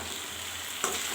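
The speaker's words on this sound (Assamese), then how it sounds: "হ'লেও আমি এইখিনিক আৰু ভালকৈ ৰঙা নিচিনাকৈ ভাজি দিম।" Potatoes and okra frying in a pan, a steady soft sizzle with a brief clink of stirring near the end, close and moderately quiet, no voices.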